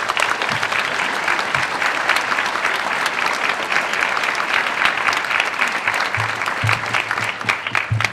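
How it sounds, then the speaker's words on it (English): A school audience at a primary school first-grade event applauding Mr. Nichols, steady dense clapping filling the room throughout, with a few louder thumps near the end. "Give him a nice round of applause"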